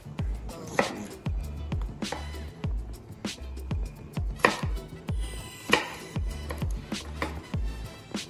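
A knife chops garlic on a cutting board beside a lamb joint for oven roasting, in a string of sharp, irregular taps close by, with a low steady hum underneath.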